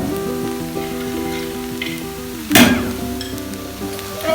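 Cashew nuts drop into sizzling pineapple fried rice in a hot pan for a Thai dish, sending up a louder burst of sizzle midway over a steady frying hiss with faint clinks; no one speaks.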